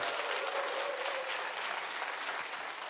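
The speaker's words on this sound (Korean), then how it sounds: "큰 박수 부탁드립니다." A concert audience applauds steadily, a dense patter of many hands clapping without pause.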